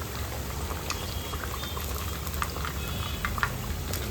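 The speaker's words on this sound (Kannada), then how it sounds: "ಒಂದೊಳ್ಳೆ ಕಲರ್ ಬರುವ ಹಾಗೆ ಫ್ರೈ ಮಾಡ್ಕೋಬೇಕು." Suji kakara pitha, a traditional Odia sweet, frying in hot oil in a pan, with a steady close bubbling sizzle and faint scattered pops throughout.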